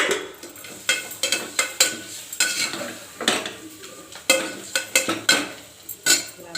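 Prawns being stirred in a hot pan, a metal utensil scraping and clinking in quick irregular strokes over a steady oily sizzle, close and fairly loud.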